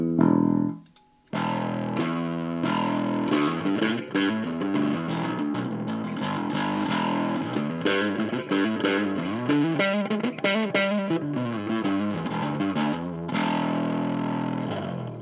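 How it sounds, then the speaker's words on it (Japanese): A bass guitar runs through a Bass BB preamp set as a distortion pedal at low gain. It plays a continuous, gritty, overdriven riff with many note changes for about fifteen seconds, after a brief opening note and pause. "これは僕は、いわゆるディストーションペダルとして使ってますね。"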